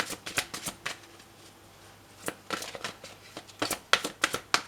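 A deck of tarot cards is riffled and shuffled by hand in a quiet room. Quick bursts of flapping card noise come in short clusters, with brief pauses between them.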